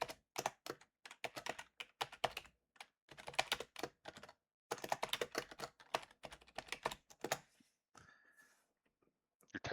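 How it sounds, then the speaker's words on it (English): Typing on a mechanical keyboard, rapid clackety keystrokes in uneven bursts with short pauses, close and fairly quiet, then a brief faint tone near the end. "It's the mechanical keyboard. Very clackety."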